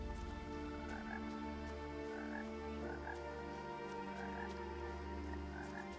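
Frogs croak in a steady, overlapping chorus in the video game What Remains of Edith Finch, a continuous soft rattling pulse over an even ambient hum, with no talking.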